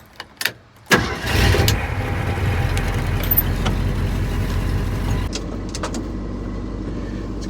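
An old Mercury car engine starts: a few short clicks, then it catches with a loud roar and runs steadily nearby. After a few seconds it settles to a softer idle, with no talking.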